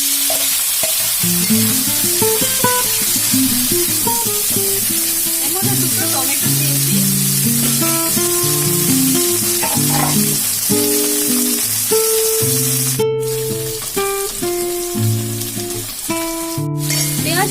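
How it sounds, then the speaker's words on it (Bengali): Continuous loud sizzling from tomatoes frying in a pan, with background music playing throughout and no talk. "টমেটোর গুলো ভাজা হয়ে গেছে"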